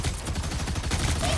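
Iron Man's rapid weapon fire in the hero shooter Marvel Rivals, a dense pulsing volley of repeated blasts running continuously with a steady rhythm and fairly loud, with no talk over it.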